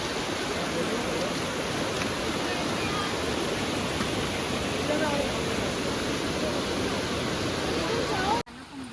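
A steady, unbroken roar of a forest waterfall fills the scene, broad and hissing, until it cuts off abruptly near the end.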